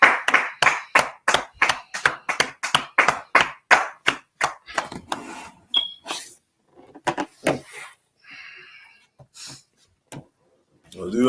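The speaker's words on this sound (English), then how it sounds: "All right, let's clap it up." A class claps hands together, first in a quick, steady run of loud, sharp claps, then thinning into scattered, softer claps with brief murmurs of voices near the end.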